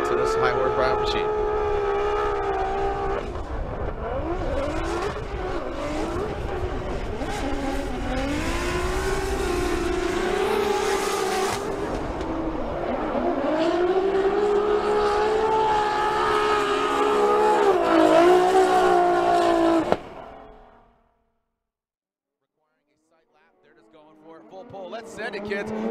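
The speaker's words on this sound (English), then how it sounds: "So here goes Mike Power. We'll lay out and listen to the Power Drift S15" A Nissan S15 drift car runs a Formula Drift battle, its engine howling loud and close with rising and falling revs for about twenty seconds before cutting off, then returning faintly at a distance.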